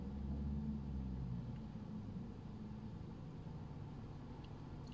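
A muffled car engine hums low and steady, heard from inside a vehicle, with a slightly louder rumble at the start that then settles.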